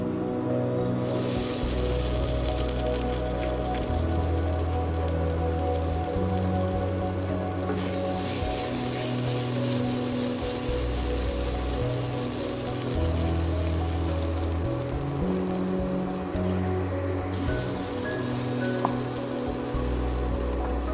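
Cut sweet potato sizzles in oil over a mustard seed and five-spice tempering, giving a continuous hiss that swells and eases. Soft background music plays underneath.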